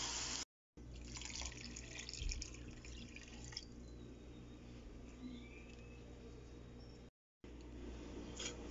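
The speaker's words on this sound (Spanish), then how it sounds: "Ya que le agregué el agua, vamos a esperar de 30 a 40 minutos para ver cómo van de cocimiento nuestras lentejas" Water poured into a pot of lentils on the stove, a soft steady trickling and splashing at low volume, broken by two brief silent gaps.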